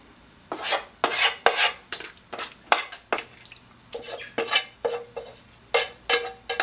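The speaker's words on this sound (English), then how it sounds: "just fold them together till you get the cheese well distributed amongst the pasta" A spoon folds pasta with cheese and onions in a pot, producing repeated scraping and sticky stirring strokes in an uneven rhythm, close and fairly loud with brief pauses between strokes.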